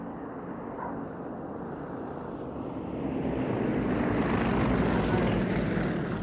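Propeller aircraft of the Aerostars aerobatic team fly a display at the RAF Cosford Airshow, a steady distant engine drone that swells louder over the second half as the planes pass closer.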